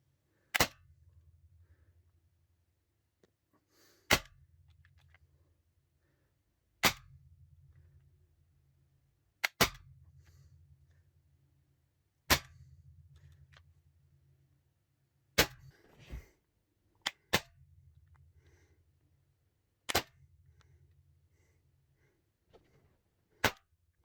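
An HDR gun fires test shots after a conversion kit is fitted: about a dozen sharp, isolated cracks spaced a few seconds apart, each trailed by a brief low hum, with quiet in between.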